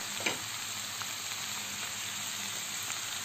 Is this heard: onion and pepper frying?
yes